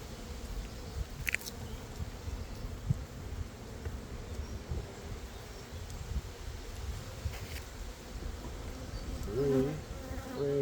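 Honeybees buzzing during a beehive inspection, with a capped queen cell in the hive: a dense, steady drone of many bees, moderately loud, with occasional light rustles and handling noises and no talk.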